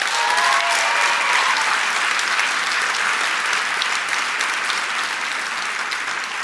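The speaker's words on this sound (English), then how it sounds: "Can you give her a round of applause?" A crowd gives a round of applause at an emotional talk or gathering. The clapping is loud, dense and sustained throughout and gradually eases off toward the end, with no speech over it.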